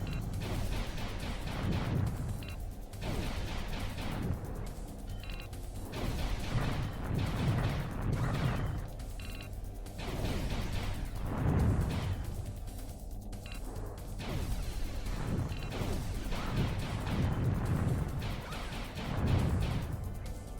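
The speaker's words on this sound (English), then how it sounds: "Just take a listen at the game Panzer Dragoon on the Sega Saturn." Panzer Dragoon playing on a Sega Saturn, a dense continuous wash of booming crashes, blasts and explosive impacts over layered game music and effects at steady loudness.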